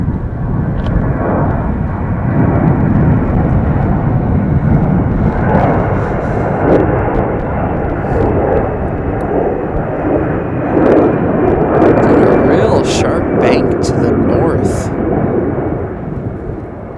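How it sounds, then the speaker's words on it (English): An American Airlines jet airliner at Chicago O'Hare airport roars loudly and continuously, a broad rumbling wash of engine noise that swells and holds, heard from a distance with no talk. "American Airlines flight 2840 headed to Philadelphia."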